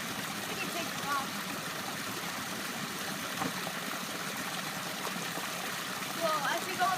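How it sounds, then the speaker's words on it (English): A small waterfall spills over a big rock in a creek bed, giving a steady, broad wash of flowing water that runs continuously at moderate level throughout, with no voices on top. "we've got a little waterfall coming from the stream"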